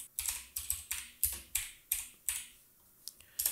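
Computer keyboard typed on in a short burst of about a dozen crisp, close keystrokes at an uneven rhythm, with brief gaps and no talking.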